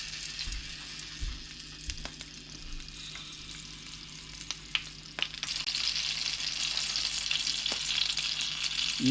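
Shishito peppers blistering in a hot pan, a soft frying hiss with occasional scraping taps as they are turned, growing a little louder toward the end.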